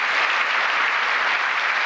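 Applause from a crowd at a presidential bill-signing event for full-time schooling, a thick, even roar of clapping held at full strength for the whole moment.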